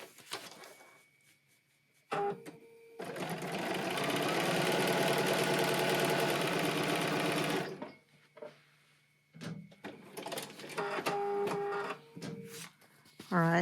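A sewing machine stitches a paper-pieced sunflower quilt block in one long, steady, loud run lasting several seconds, with a person talking briefly before and after and softer handling sounds around it.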